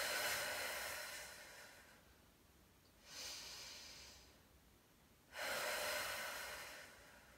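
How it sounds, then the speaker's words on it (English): Slow, deep 360-degree rib breathing in a pre- and postnatal exercise setting: close, hissing breaths in long inhale and exhale phases, three airy swells separated by quieter pauses, no speech. "as you inhale, you're going to expand through your ribs, front, side, and back, and then exhale"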